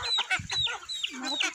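Chickens cluck and chatter in quick bursts, fairly close, with a rooster's voice mixed among the hens.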